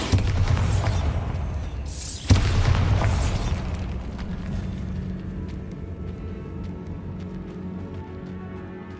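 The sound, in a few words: Bombarda exploding spell blast in a Harry Potter video game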